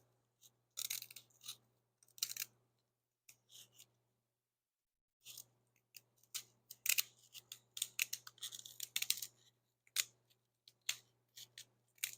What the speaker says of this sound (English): just cut it at the spine, closest to one of the spines